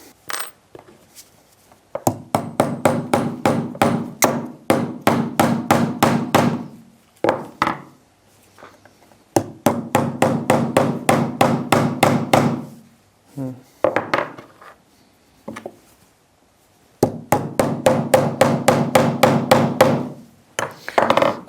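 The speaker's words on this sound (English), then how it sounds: "Let's try hammering in 3 big nails and 3 small nails and see how that goes." Three rapid bursts of hammer blows drive big nails into wood, each run of sharp, evenly spaced strikes ending in a pause before the next nail is started.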